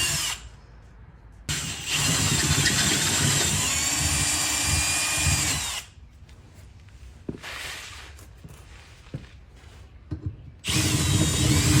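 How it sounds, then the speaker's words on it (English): A power drill bores holes for M8 rivnuts while installing a reverse light bar on a Can-Am Defender, two loud sustained whining bursts with quieter pauses and brief clicks between them. "Drill them out to the correct size for our rivnuts"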